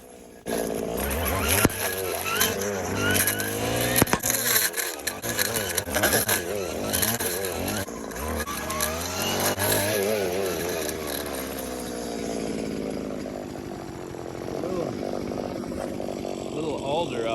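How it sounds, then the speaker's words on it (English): A brush cutter chews through thick brush and branches on a hillside, its engine whining and revving steadily throughout with varying load, while someone talks over it. "The brush cutter is the only way to go with this"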